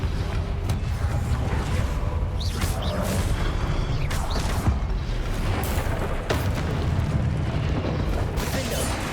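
Repeated Confringo fire-blast spell explosions in Hogwarts Legacy, a continuous rumbling roar of booms and crackling bursts that stays loud throughout, with brief sharper pops spaced every couple of seconds.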